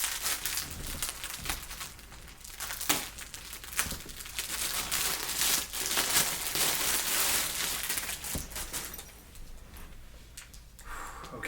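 Plastic packaging and tape crinkle and tear in steady close bursts while an Aniki Cosplay armored Mighty Morphin Red Ranger suit is unboxed, with sharp rustles and crackles throughout and no talking.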